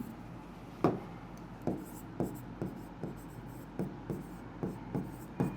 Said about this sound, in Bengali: ভালোভাবে লিখি।